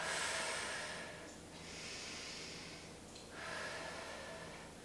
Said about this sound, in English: Breathing in and out